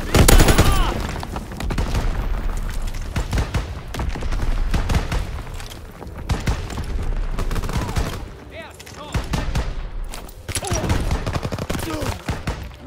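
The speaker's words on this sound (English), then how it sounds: "Fighter aircraft ready for strafing run." Rapid bursts of gunfire from a fighter aircraft strafing run in a combat video game, loud and dense with booming impacts across the whole stretch, broken by short lulls, with no speech over it.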